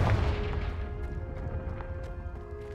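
A Confringo spell in Hogwarts Legacy sets off a loud, close blast with a deep low boom. Crackling debris follows and fades over the next few seconds. Steady tones ring underneath and no one speaks.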